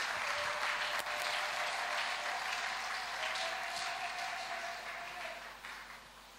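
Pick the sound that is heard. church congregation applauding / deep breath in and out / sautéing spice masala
church congregation applauding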